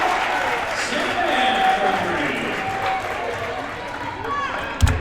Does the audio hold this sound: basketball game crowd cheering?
yes